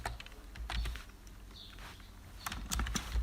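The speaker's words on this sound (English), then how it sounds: "I will type user prototype" Code is typed on a computer keyboard in quick, close clusters of key clicks with a brief lull in the middle, over a faint low hum.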